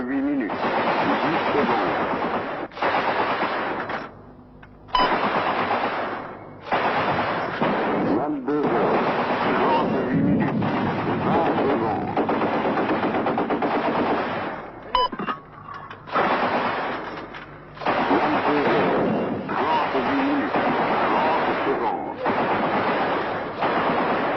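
Shell fire and machine-gun bursts from the 1985 war between the Polisario Front and Morocco in the desert, a dense, continuous roar with brief gaps, broken by sharp impacts, with talk running over it throughout.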